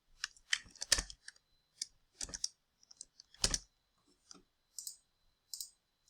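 Rapid bursts of computer keyboard typing as a function is entered into GeoGebra, close and crisp clicks in short irregular clusters separated by pauses, with no talking.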